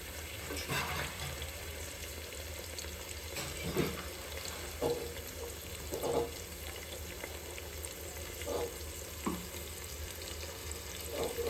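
Ginger frying in a pan for a simple biryani, with a steady sizzle running throughout and several soft scraping stirs at intervals, without speech.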